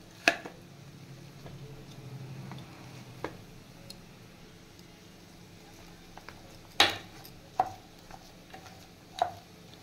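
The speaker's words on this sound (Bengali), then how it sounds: "এবার আমি আলুটা এখানে ভেঙে নেব পুরোটা।" Boiled potatoes being mashed in a pan: scattered sharp taps and scrapes of a utensil against metal, a few louder knocks among quiet stretches of soft squishing.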